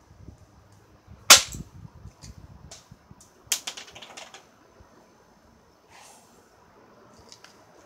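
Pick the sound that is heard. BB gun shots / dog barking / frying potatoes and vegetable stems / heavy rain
BB gun shots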